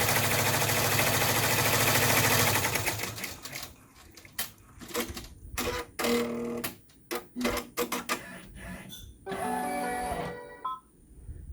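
An embroidery machine stitches the lining of a zip bag held in the hoop, starting with a loud steady run, then breaking into rapid bursts of stitching separated by brief pauses, close and alone.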